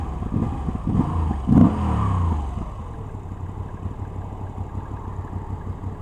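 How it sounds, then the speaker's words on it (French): A Moto Guzzi V85 TT motorcycle engine revs sharply with a deep airbox intake roar, then settles into a low, steady idle rumble. "Il y a un bon bruit de boîte à air."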